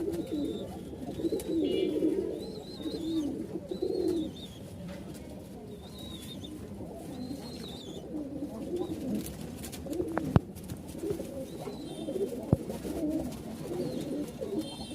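Soft, repeated pigeon coos from a male pigeon courting a female roll on steadily against a busy low background murmur, with a couple of sharp clicks partway through.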